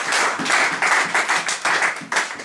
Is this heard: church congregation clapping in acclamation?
yes